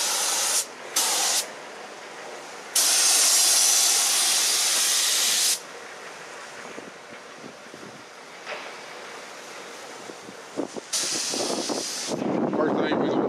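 A paint sprayer hisses loudly as it lays primer on a sandblasted, ground-down John Deere, with long steady bursts broken by pauses and quieter shop noise between passes.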